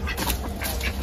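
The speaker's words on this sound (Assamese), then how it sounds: "আৰু এইবিলাক আমাৰ হাঁহ" Domestic ducks quack close by at a rural home in Assam, several bursts of nasal calls overlapping in quick succession, loud and near, with no speech.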